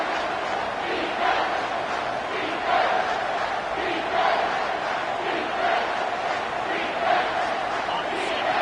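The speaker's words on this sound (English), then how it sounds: "this crowd will blow out a vocal cord to help this defense" Stadium crowd in the NCAA 25 college football video game during overtime, a sustained loud roar with rhythmic swells, filling the whole stretch.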